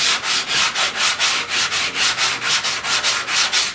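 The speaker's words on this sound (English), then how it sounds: "let me sand this corner over here. You know, you can't really see it. I just doing the same step. This is 80 grit." Rhythmic hand sanding of body filler on an inner door panel of a 1969 Chevrolet C10 truck with 80 grit paper, about fifteen even back-and-forth scrubbing strokes, close and steady with no talk.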